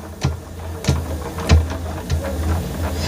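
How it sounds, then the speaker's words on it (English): A sewing machine stitches around a fabric bag in short bursts, about five quick runs of needle clatter with brief gaps, close and fairly quiet, no talking. "I'm going to sew around the whole bag."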